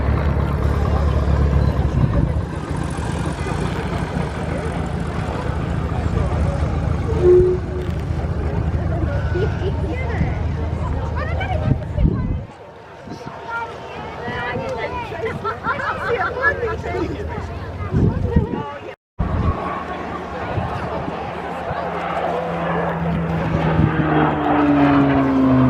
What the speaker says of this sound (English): Spitfire taxi.